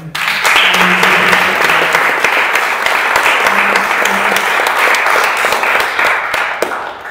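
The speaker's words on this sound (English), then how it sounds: "And another round of applause for the amazing Michael Stanley." An audience applauds a speaker with a loud, dense wash of clapping that holds steady throughout, with a few sharper individual claps near the end and faint voices murmuring underneath.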